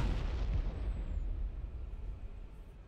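A tank cannon fires in the Arma: Cold War Assault video game, a loud booming blast near the start that rolls off into a fading rumble over three seconds.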